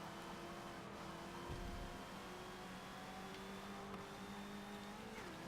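Turbocharged race car in Forza Motorsport 7, its engine a steady droning tone with a faint high whine above, holding fairly constant pitch with a small dip and shift near the end, no voices.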